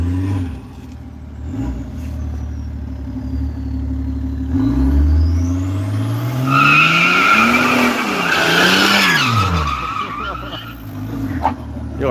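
A new car does donuts, its tires screeching in a long, loud, sweeping skid while the engine revs rise and fall throughout, with voices heard faintly underneath.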